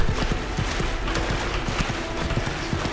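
Horse hooves gallop in rapid, rhythmic clip-clop beats in the Mount & Blade 2 Bannerlord video game, close and steady over a dense background wash of game noise.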